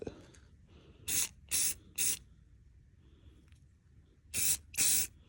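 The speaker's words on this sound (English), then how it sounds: "Just spray it until it looks like it's just kind of damp" Spray paint hisses onto a lipless crankbait in short bursts, three quick sprays close together followed by two more after a pause, each loud and close against a quiet room.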